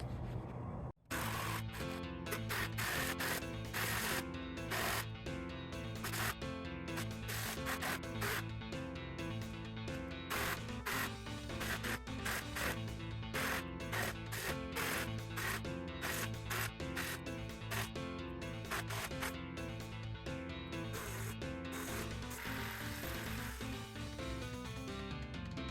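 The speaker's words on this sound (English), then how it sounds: "I'm just going to try and cut through this with my jigsaw." A jigsaw cuts through wood for a cedar strip canoe seat, a steady, loud buzzing rasp that runs almost unbroken for over twenty seconds after a brief start, with rhythmic pulsing from the blade stroke.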